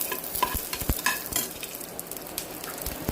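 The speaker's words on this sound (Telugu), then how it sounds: "మనం గార్లిక్ వేయాలి, అందులో గార్లిక్ కూడా వేసి ఫ్రై చేయాలి" Garlic fries in a pan with a close, busy sizzle, broken by quick spoon stirs and scrapes clustered in the first half and fading to a steadier crackle.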